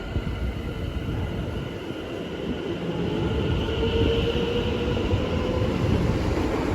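A passenger train to Watford Junction in London rumbles steadily along the rails, a broad continuous roar that swells slightly louder partway through, with no voices.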